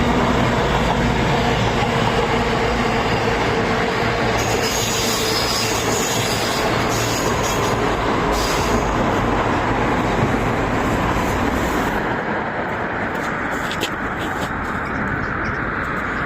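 Class 221 Voyager train running past the former Hibel Road station site in Macclesfield, a steady loud rumble of wheels and engine with rail squeal, fading slightly toward the end.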